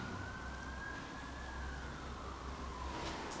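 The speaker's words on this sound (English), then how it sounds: "I have the sirens on for us." A wailing siren sweeps slowly up and down over steady road rumble, loud and continuous throughout.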